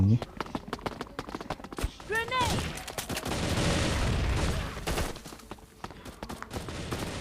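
Gunfire in the shooter game Bullet Angel: sharp shots crack at the start, then a swelling burst of rapid fire and explosions dominates the middle before tapering off, with a voice talking over the action.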